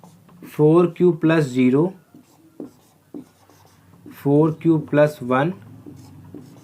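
Marker or chalk strokes on a board during a Class 10 maths lesson, short scratchy bursts in a pause between a man's spoken lines.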